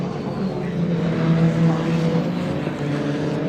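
Racing trucks in the British Truck Racing Championship at Snetterton circuit, engines droning and rising in pitch as they pass, a steady loud roar that swells briefly in the middle, with no talking.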